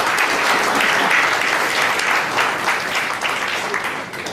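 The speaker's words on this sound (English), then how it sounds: "Please thank her with a round of applause." An audience applauds after a presentation on the Companies Act 2013, with dense, steady clapping throughout that tapers slightly near the end.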